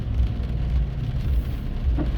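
Heavy rain pours in a steady low rumble, dense and continuous, with no voices over it.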